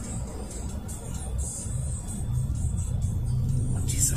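Inside a Tesla Model Y on the move, a low, even road rumble and faint tyre hum fill the cabin, growing slightly louder toward the end, with no talk.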